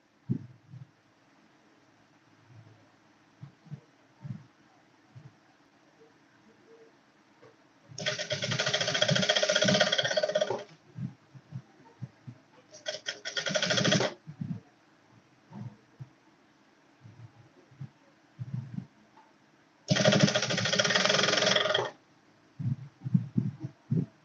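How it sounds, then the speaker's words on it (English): Sewing machine stitching a corset yoke, three loud sustained runs of whirring stitches lasting two to three seconds each, separated by quiet stretches with small handling clicks and knocks. "So I'm sewing."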